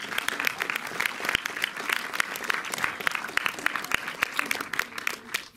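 Cinema audience at a Méliès screening applauding the film's distributors, a dense, steady wash of many hands clapping throughout with no voices on top.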